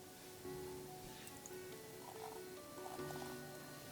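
Soft, steady rain falls outdoors as a faint, even hiss, with frogs croaking now and then in the distance.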